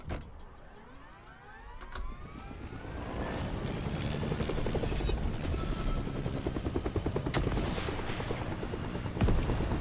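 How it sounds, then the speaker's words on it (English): A helicopter in the Fortnite video game, a steady whirring rotor chop that swells and stays loud for several seconds, mixed with game rumble and faint crashing debris. "Oh yes, also, helicopter."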